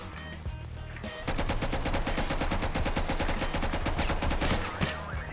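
An assault rifle fires a long, rapid automatic burst in a Mount & Blade-style game with guns. The shots are loud, close and continuous, and there is no talk over them.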